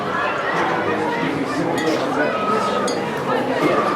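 Glass clinking and tapping while sodium hydroxide and zinc powder are stirred in a glass container at a science show, a run of light chinks under steady crowd chatter and nearby talk.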